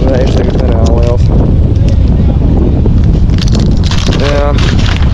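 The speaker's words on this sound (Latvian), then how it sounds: "vējš tagad nereāli liels" Strong wind buffets the microphone on the Daugava river during bream fishing, a constant loud rumbling roar through the whole stretch, with people talking over it at moments.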